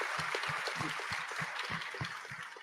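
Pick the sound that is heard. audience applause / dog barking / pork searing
audience applause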